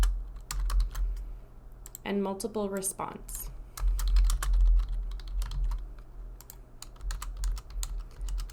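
Fingers tap out a steady run of crisp, close keystrokes on a computer keyboard while entering a tooth number into dental charting software, with someone speaking briefly over the clicking.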